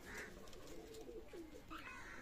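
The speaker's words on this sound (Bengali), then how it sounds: "মাশাআল্লাহ কবুতর, টেডি কবুতর" Teddy pigeons, a Pakistani breed, coo softly in a loft, a few low rolling calls heard faintly against steady background noise.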